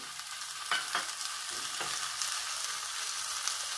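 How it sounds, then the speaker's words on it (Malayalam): Browned onions sizzling in a pan as ginger-garlic paste goes in for vegetable macaroni; a soft, even frying hiss with a few scraping stirs near the start, close but fairly quiet, no voices. "ഉള്ളിയൊക്കെ ഇവിടെ കളർ മാറി വന്നിട്ടുണ്ട് അതിലേക്ക് നമുക്ക് ഇഞ്ചിയും വെളുത്തുള്ളിയും പേസ്റ്റ് ഇട്ട് കൊടുക്കാം"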